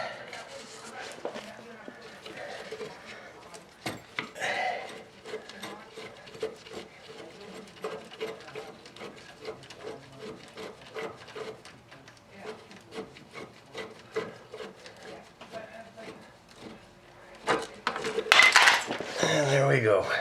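Ratchet or wrench unscrewing an inner tie rod on a 2006 Dodge Caravan, a long run of rapid metallic clicks and scraping, close by, with a few louder clunks toward the end and talk nearby.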